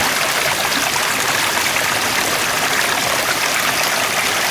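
Stream water running down little shelf rock ledges beside a hiking trail on the Duck River Trail near Cullman, Alabama, a steady close rushing and splashing wash that continues unbroken with no talk.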